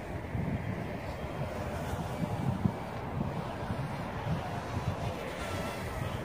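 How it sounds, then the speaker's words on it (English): Strong wind buffeting the microphone outdoors during a Top Race TR-D4 Dragon drone flight, a continuous low rumbling roar with gusty swells and no clear voices. "but it's so windy out here."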